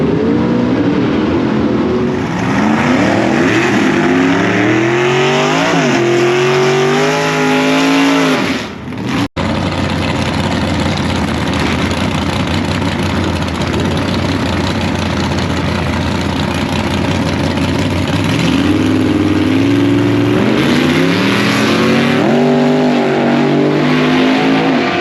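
A race truck engine roars through a drag race pass, loud and close, with rising revs and gear-change sweeps, a brief drop-out near the middle, then a sustained heavy drone before the revs climb and fall again near the end.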